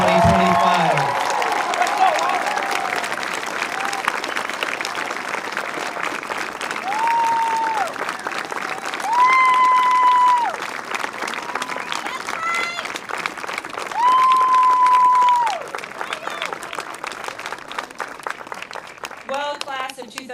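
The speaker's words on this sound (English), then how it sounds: "let's make one big round of applause for the Camels Hump Middle School class of 2025" A crowd at a middle school eighth grade recognition ceremony applauds the graduating class, steady loud clapping throughout with some cheering, while a voice speaks briefly over it.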